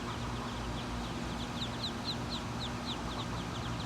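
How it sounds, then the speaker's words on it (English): Muscovy ducklings peeping in a rapid series of high, thin calls, fairly faint over a steady outdoor background hum. "Baby Muscovy,"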